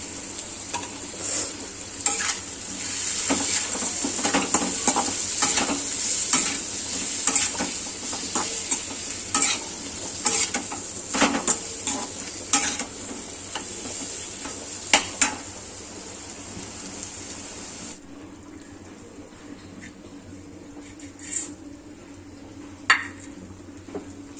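Ground cumin and turmeric sizzling in a pan for a small-fish chorchori, stirred with a spoon that scrapes and clinks against the metal in a steady run of close strokes before the frying fades to a quieter hiss.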